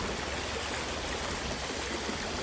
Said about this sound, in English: I'll just try and cross over the stream here